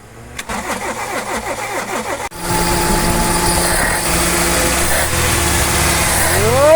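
A Toyota big-body car with a fixed spark plug and high-tension wire cranks in a rapid, rhythmic whirr for about two seconds, then catches and settles into a loud, steady idle close by.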